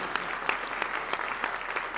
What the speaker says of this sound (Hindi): इस बात पर एक बार जोरदार ताली बजाइए।